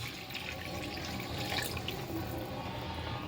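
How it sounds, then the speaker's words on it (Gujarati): Water pours in a steady, rushing stream as a glass of water is added to a pot of green chickpeas, close and fairly constant throughout. "હવે તેની અંદર હું આવી રીતે 1 ગ્લાસ પાણી અંદર એડ કરી દઈશ"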